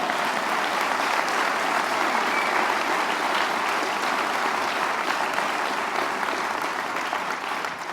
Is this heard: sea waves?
no